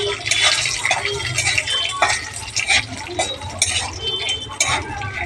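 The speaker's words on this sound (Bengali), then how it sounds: "এটা ভাজা বাদাম আর একটু ভেজে নিচ্ছি" Roasted peanuts being fried again in a pan with dried chillies and panch phoron: a steady sizzle with scraping and stirring clinks from a utensil, close and fairly loud, with no talking.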